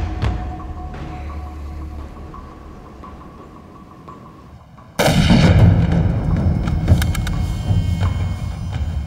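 Gunfire in an anti-Japanese war film: a low rumbling bed of distant shots, then a sudden loud burst of heavy firing with sharp cracks that carries on close and dense to the end.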